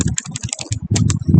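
Rapid computer keyboard typing while entering terminal commands to restart an SNMP service, close and fairly loud, with irregular clustered keystrokes through a short burst and no talk.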